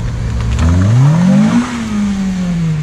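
Honda Civic FN2 with a VTEC engine revving up hard at a car meet, the pitch climbing sharply then falling away over a steady loud roar, close by with no talk.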